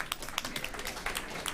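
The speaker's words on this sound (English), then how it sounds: "Round of applause, please." Steady applause from a conference audience at a food systems forum, dense rapid clapping at moderate distance filling the whole short stretch without pause.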